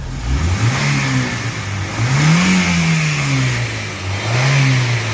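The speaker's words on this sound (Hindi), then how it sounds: "अभी मैं गाड़ी को रेस दे रहा हूँ" A 2005 Honda City engine is revved repeatedly, rising and falling in several swells over a steady idle, close by and fairly loud with no talking.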